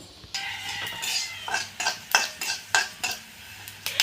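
Coriander seeds roasting in oil in a pan while making a homemade black spice masala, heard as repeated scraping stir strokes and clinks of a spoon against the pan, close and fairly loud, with no talk.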